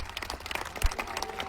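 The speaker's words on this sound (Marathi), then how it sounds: "मित्रांनो एकदा जोरदार टाळी." A rally crowd supporting Manoj Jarange Patil claps loudly in a dense, brief burst of many overlapping hand claps at close range.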